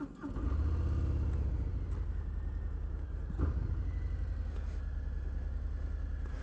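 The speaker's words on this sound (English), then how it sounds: "Still has that Harley-Davidson grunt that you get from your Milwaukee 8 engine." A 2022 Harley-Davidson Fat Bob with a Milwaukee 8 engine out on the road, a loud, steady, low engine rumble that rises briefly as it pulls, with no talking over it.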